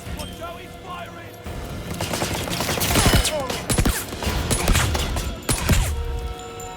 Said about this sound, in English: Watch out, he's firing.